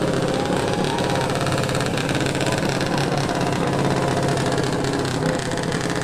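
Engine of a parade pace car running at a small-town festival parade, a loud steady throaty rumble held close throughout with no gaps and crowd noise mixed underneath.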